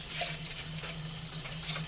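Tap water runs steadily into a sink while dishes are washed by hand in long rubber gloves, a continuous close splashing rush with faint sloshing throughout.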